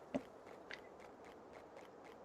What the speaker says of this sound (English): Okay, Cat, I don't know if the people can hear you chewing on your paws like that, but I don't think they want to.